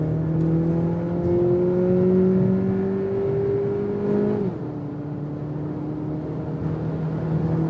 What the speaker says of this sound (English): So let me do one more acceleration here when we're already at speed.